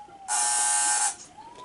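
A game show buzzer gives one loud, harsh electronic blare lasting close to a second. It rings out alone against a quiet background during a card game show round.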